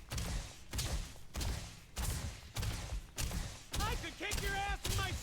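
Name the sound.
gunshots fired at energy shield, Starfield video game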